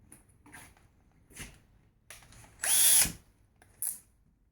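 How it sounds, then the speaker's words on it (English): A power drill drives small half-inch screws, heard as several short whirring bursts separated by pauses, with one longer, louder burst in the middle, close and alone. "we're going to put some small screws in"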